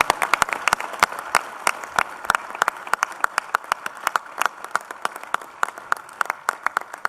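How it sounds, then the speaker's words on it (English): An audience in a conference hall claps, with a sparse scatter of distinct, separate handclaps at an uneven rhythm rather than a dense roar. "if you could give him a big round of applause"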